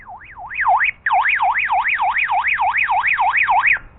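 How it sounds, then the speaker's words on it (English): A Baofeng handheld radio's emergency alarm wails in a rapid rising-and-falling siren pattern, loud and close, pausing briefly near the start before continuing steadily for several seconds. "Plus it's got an alarm."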